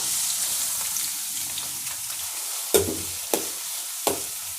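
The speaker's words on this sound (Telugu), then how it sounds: "ఆయిల్ హీట్ ఎక్కుతుంది కదా ఆనియన్ పచ్చిమిర్చి కరేపాకు వేసేస్తున్నాను" Onion, green chillies and curry leaves fry in hot oil with a bright, hissing sizzle, broken by a few sharp clanks of a spoon on the pan, close up with no speech.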